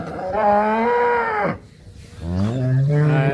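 A pregnant cow about to calve moos twice nearby, a long drawn-out low followed by a shorter second call after a brief pause.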